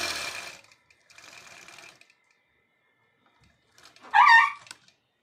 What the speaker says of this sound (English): That poor dog wants Roxy to play with her.